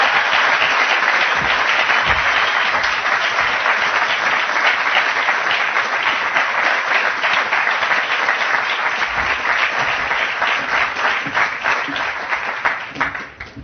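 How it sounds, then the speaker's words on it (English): Applause from an audience at a Rockefeller Hall celebration, dense and steady for the full stretch with no break, then thinning slightly near the end. "I do want us to welcome her with a round of applause for her own remarkable work first"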